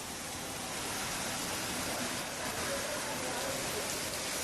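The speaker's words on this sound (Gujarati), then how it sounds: "ધોધમાર વરસાદ ભારે વરસાદના પગલે રસ્તા ઉપર પાણી ફરી વળ્યા છે" Heavy rain pours steadily over Keshod in Junagadh, Gujarat, where rural roads are flooded. The downpour is a dense, even hiss that holds for the whole stretch, with no voices over it.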